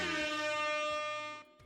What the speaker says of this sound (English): Get some air horns.